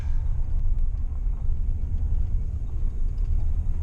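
A truck engine idles high on its own, a steady low rumble that stays even and moderately loud with no throttle changes.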